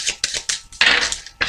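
A deck of tarot cards being cut and shuffled by hand, giving a run of close, crisp riffling and slapping bursts with brief pauses between them.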